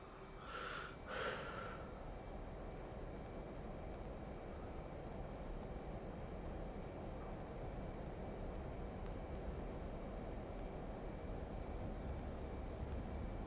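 An F/A-18C jet's afterburners roar in a flight simulator as a steady, broad engine rumble, with a couple of short breathy sounds near the start.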